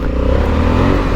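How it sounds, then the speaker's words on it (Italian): A Honda Africa Twin 1100 Adventure Sports 2020 motorcycle engine pulls hard under acceleration, a loud, close, throbbing low drone with a steady pulsing rhythm over a short burst. "sentite che spinta questo motorone"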